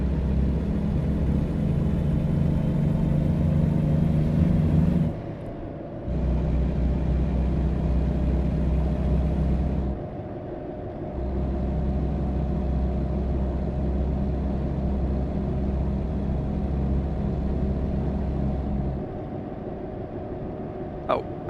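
A Volvo VNL 780 truck's engine drones steadily while driving, a loud, continuous low rumble that dips briefly a few times, heard alone without talk.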